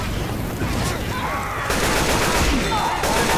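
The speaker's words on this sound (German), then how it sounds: "Du schießt schon wieder!" Rapid, continuous gunfire in the co-op shooter Left 4 Dead 2, a steady barrage that swells louder about halfway through, with occasional voices mixed in.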